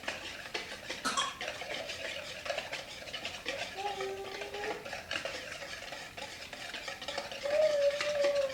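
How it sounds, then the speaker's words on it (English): Ground deer meat is worked together with jerky cure and water in a bowl, giving soft, wet stirring and scraping with occasional utensil clinks, while someone speaks quietly nearby. "For the ground meat method, it says to mix meat with the water mixture until tacky."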